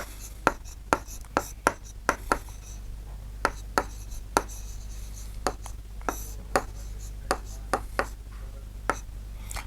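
Chalk or pen taps and strokes sound repeatedly as a teacher writes a maths answer, giving a close, irregular series of sharp clicks over a faint steady hum.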